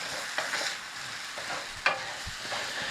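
Potatoes frying in a pan that isn't non-stick, with a constant crackling sizzle and a few sharp scrapes and knocks as a utensil stirs them, close up, with no talking.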